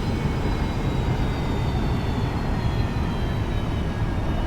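A Boeing 737-800 in flight on a London Heathrow to Berlin route in X-Plane 11 gives a steady, dense broadband jet roar with faint high engine whine, unchanging and close throughout.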